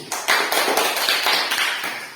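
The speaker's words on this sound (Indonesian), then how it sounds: "tepuk tangan untuk kelompok 1" Applause for a presenting group in a teacher-training classroom session, a dense patter of many hands clapping close by, steady and fairly loud for about two seconds with no talk.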